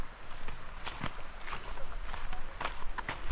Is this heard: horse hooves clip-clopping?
yes